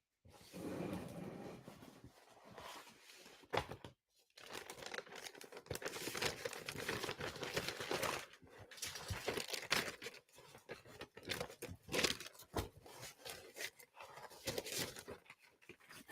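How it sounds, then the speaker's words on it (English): Sheets of paper being shuffled, crinkled and handled up close, a quiet irregular series of rustles and crumples with brief pauses, no talk. "I'm getting my paper organized."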